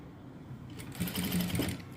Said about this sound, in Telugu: అటు సగము ఇటు సగము కుట్టు అనేది వేసుకోవాలి